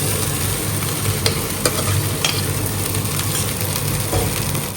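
Chana dal frying in oil in a pan for a Sunday cooking session, a steady dense sizzle with a few soft scraping stirs from a spoon, continuous and close, with no voices.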